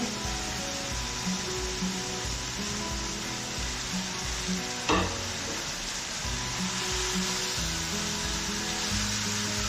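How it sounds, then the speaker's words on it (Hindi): Vegetables softening as they sauté in a pan for spicy chicken macaroni, giving an even, continuous hiss of frying with a low steady hum beneath and one brief sharper tick midway. "सब्जियों को थोड़ा सा हम सौते कर लेंगे, थोड़ी सी सॉफ्ट हो जाए।"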